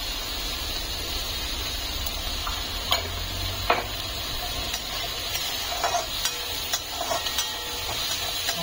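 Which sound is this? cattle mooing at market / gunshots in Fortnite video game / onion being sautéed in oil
onion being sautéed in oil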